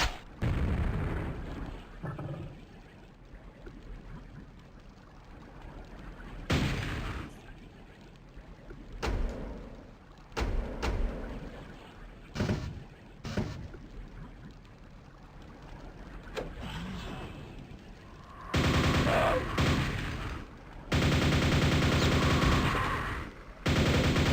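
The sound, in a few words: gunfire and explosions from the video game Quake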